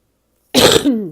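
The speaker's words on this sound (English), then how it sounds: "Sorry about my cough, I really am." A single harsh, loud cough bursts out of silence and trails off into a short throat-clearing rasp, close to the microphone, with no talk around it.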